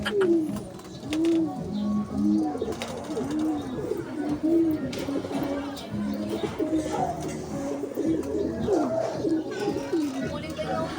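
Racing pigeons coo repeatedly in soft rolling calls, several birds overlapping, with a busy background murmur of voices and movement.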